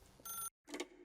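A telephone rings in The Stanley Parable video game, two short bursts of electronic bell trill separated by a brief silence, fairly faint and alone.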